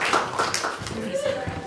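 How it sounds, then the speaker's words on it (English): A small group claps at a live trivia game show, a brief patter of applause mixed with cheering and voices talking over it. "Let's all clap for them."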